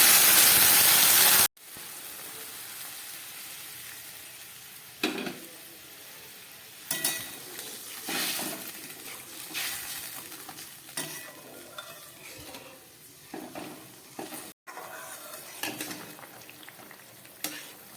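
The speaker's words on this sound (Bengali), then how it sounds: "ঝোলটা একদম ফুটে উঠেছে।" Fish curry gravy, home-style with light spices, green chilli and nigella seeds, bubbling steadily in a pan after warm water is added; a continuous sizzling boil with occasional stirring scrapes and utensil clinks, close and fairly loud, no talking.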